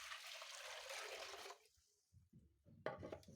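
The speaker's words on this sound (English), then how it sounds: "Then I'll be adding cold water." Cold water poured into a pot for Kenyan spiced tea with masala, a steady quiet splashing stream for about a second and a half, then it stops and a few soft clunks follow.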